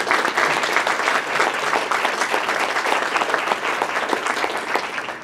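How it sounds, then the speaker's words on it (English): An audience at a 2021 club breakfast event gives a strong, dense round of applause for the sponsors, many hands clapping steadily and loudly throughout. "So big round of applause for our sponsors."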